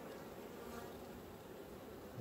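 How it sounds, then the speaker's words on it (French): Honey bees humming steadily at an open beehive, a dense, even buzz of many insects close by with no pauses. "Ça reste quand même des abeilles."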